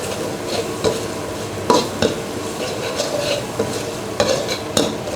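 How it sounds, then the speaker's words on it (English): Curry paste being fried and stirred in a pan as coconut milk goes in, giving a steady low sizzle with repeated scraping strokes and utensil clinks at irregular intervals, close and moderately loud with no talk. "You fry until the curry paste dry, and then add a little bit by bit of coconut milk."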